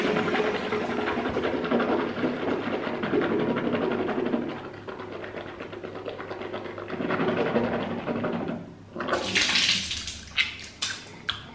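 Water being swished around in the mouth as a mouthwash: a long wet sloshing and gurgling at close range, with a brief pause, then a bout of spitting splashes near the end.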